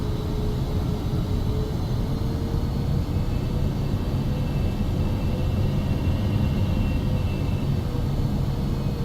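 A Gulfstream 550 business jet in the X-Plane 12 flight simulator, with a steady, dense engine roar and rumble throughout and a faint high whine on top, no talk.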